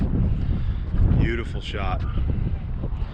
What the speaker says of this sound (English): It's a very windy day though.